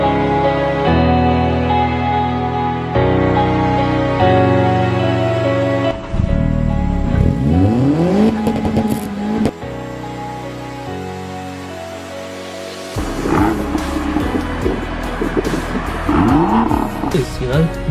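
A Nissan Micra drives and revs, its engine rising and falling in pitch over music-like tones, with a sweeping rev in the middle and louder driving noise toward the end.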